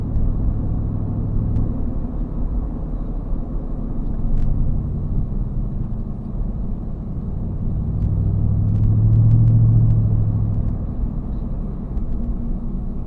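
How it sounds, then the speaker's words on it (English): A truck fitted with a cold air intake and tune rumbles steadily from inside the cab, a low continuous exhaust drone that swells slightly as it pulls, with no talking. "I'm curious to see what the video shows or comes back as with the sound of the exhaust"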